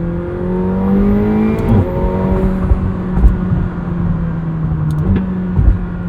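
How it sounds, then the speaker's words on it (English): A 2021 McLaren 720S Coupe engine drones loud and close under hard acceleration, its rising pitch cut by two abrupt gear shifts, with wind and road roar throughout. "this powertrain is just amazing also. Brutal shifts."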